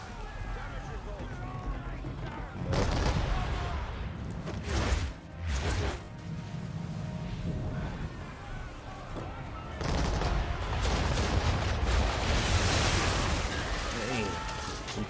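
Cannon blasts and gunfire in an Assassin's Creed 3 Remastered naval battle, repeated broad booming bursts over continuous rumbling noise, with someone talking throughout.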